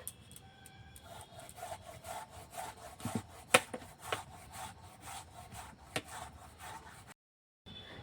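Fresh coconut is hand-grated for a Poush Parbon pitha filling, making quiet, rhythmic rasping strokes that repeat close by. A sharper scrape or knock cuts through now and then before a brief silence.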